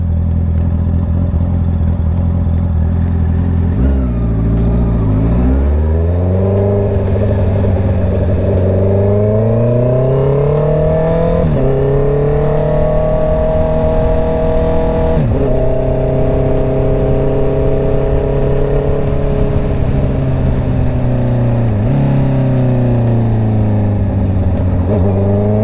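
A Honda CBR650R E-Clutch motorcycle engine roars loud and close as it is ridden, revving up through several gear changes over about 25 seconds, with rising and falling pitch sweeps and steady engine drone between shifts.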